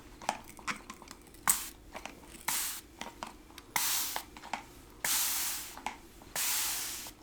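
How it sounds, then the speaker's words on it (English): Hand-pump spray bottle with an easy squeeze spray handle, fired in short close hissing bursts, a few quick light spritzes followed by several longer, louder sprays with brief pauses between them. "it has a nice easy spray handle here"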